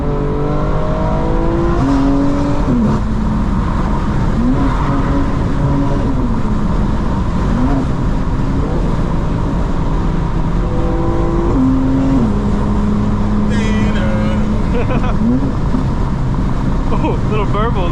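A 900 hp 2025 BMW M4 Competition xDrive engine drones and revs continuously with pitch climbing and dropping through gear changes, with crackling exhaust burble pops and people talking over it.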